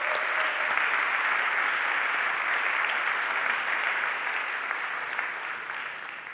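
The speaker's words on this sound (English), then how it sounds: "So I'd like to give a big round of applause to all AIXR members in the room." Steady, moderately loud applause from a crowd at a VR awards ceremony, continuous and even throughout without a break.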